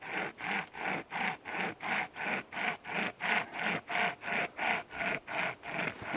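A Nordic Pocket Saw, a hand-pulled chain saw, cutting through a log about 10 cm thick, producing a steady rhythmic rasp of roughly three back-and-forth strokes per second, close and loud with no talking.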